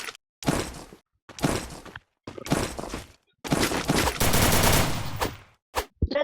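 Rapid bursts of automatic gunfire in the Free Fire battle game, several separate volleys with short silent gaps between, then a longer sustained stretch of shooting, loud and close.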